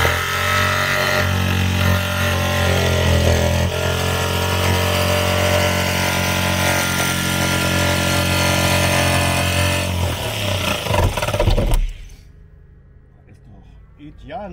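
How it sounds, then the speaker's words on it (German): A power saw run from a portable power station cuts into a campervan wall to fit a shore-power socket, whining loud and steady before stopping abruptly near the end. "Mit unserer EcoFlow Powerstation geht es natürlich jetzt ans Sägen."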